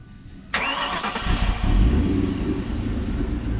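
A car engine cranks with a sharp click and catches, settling into a low rumbling idle nearby with a brief swell as it fires up.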